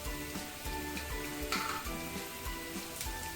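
Spices frying in a pan with salt, turmeric and asafoetida for masala chitranna, a low steady sizzle with a few soft stirring scrapes, quiet and with no talk.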